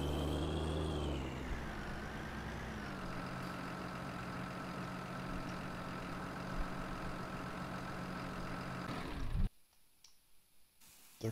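A tractor engine idles steadily on a Hungarian farm in Farming Simulator 19, a continuous low rumble with a faint clicking on top. It runs for about nine seconds, then cuts off abruptly, leaving near silence.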